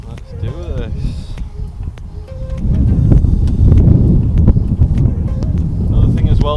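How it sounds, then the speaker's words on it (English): Wind gusting over the River Ouse in a blizzard, a steady broadband roar buffeting the microphone that grows stronger halfway through, with someone talking over it. "the wind is blowing like downriver sort of thing"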